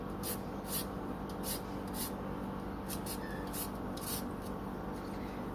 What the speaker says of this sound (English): So you're going to zest this whole lime